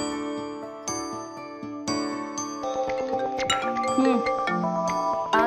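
A bright, tinkling electronic ringtone melody plays in repeating chiming notes, growing fuller and busier as it continues, with no voices.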